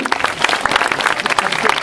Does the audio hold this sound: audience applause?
yes